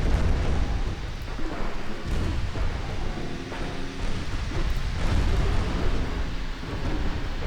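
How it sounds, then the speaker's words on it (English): Naval gunfire and shell explosions in a video game battle against a battleship, with 6-inch, 5-inch and 16-inch guns firing; deep booming blasts and rolling rumbles follow one another densely, loud and continuous, with no voices. "Getting taken apart with 6-inch guns and the 5-inch. The old 16-inch massive shell obliterating it."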